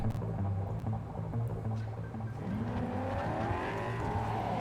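A car engine in the Cyberpunk 2077 video game hums and then revs, its pitch climbing and wavering as it accelerates, loud and close with no talk.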